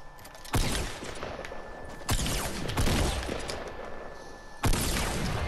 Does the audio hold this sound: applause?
no